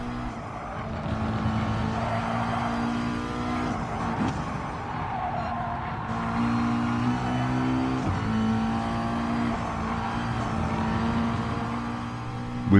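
Racing cars lap Suzuka in Gran Turismo Sport, an Audi among them, engines droning steadily at high revs with gear shifts and pitch changes, loud and continuous throughout.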